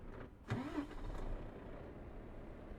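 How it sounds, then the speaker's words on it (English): A truck engine in Euro Truck Simulator 2 cranks and catches with a short burst, then settles into a steady, low idle rumble. "Get the engine going."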